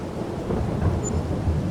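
Rain and a low rolling rumble of thunder in Farming Simulator 22, a steady wash of rainfall under a deep grumbling roll, moderately loud with no talk.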